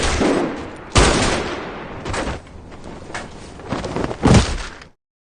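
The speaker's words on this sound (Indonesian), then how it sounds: "penyamarannya terbongkar di hadapan Pildo akhirnya menembak mati Gang Jae yang hendak membocorkan penyamarannya itu." Gunshots in a Korean drama scene, several sharp, loud bursts with echoing tails spaced irregularly over a dim ambient background, ending abruptly.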